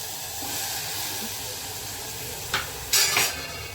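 Steady hiss and sizzle of vegetables cooking in a pan with tomato paste and oil for undhiyu, followed by a couple of brief clanks as the mix is stirred near the end.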